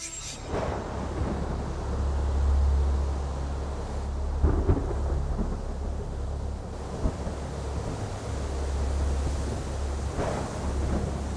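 Thunderstorm effect in a Malay folk tale: deep, rolling thunder rumbles with rain and wind, swelling and fading in several waves over roughly eleven seconds, with no voices.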